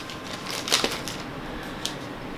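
A razor blade slices open the packaging of a Mosti Mondiale Renaissance Pinot Grigio wine kit, giving faint, quiet scratchy cuts with a couple of brief sharp ticks in an otherwise hushed room.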